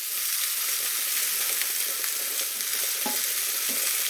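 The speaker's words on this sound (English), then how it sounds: "And you don't want to be burning that garlic, so keep it moving." Garlic and onion frying in a pan for pan-seared lamb chops, stirred steadily so the garlic keeps moving; a constant close sizzle with a few soft scrapes of the utensil, and no voices.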